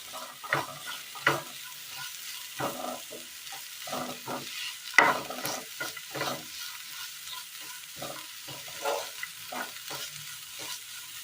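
Chillies being stir-fried in a pan for a Kerala dish, a soft ongoing sizzle broken by repeated scraping strokes of a spatula at an uneven rhythm, fairly quiet and close.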